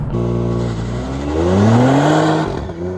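A 2022 Genesis G70 3.3T rear-wheel-drive sport sedan pulls away hard, its engine note rising steadily in pitch under a loud, continuous roar before easing off near the end.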